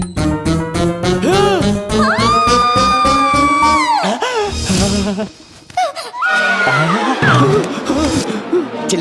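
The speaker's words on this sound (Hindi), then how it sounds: "चिल्लाने की आवाज सुनी?" Loud, sustained screaming with rising and falling pitched wails, mixed with voices and a brief noisy burst midway, continuous and close throughout.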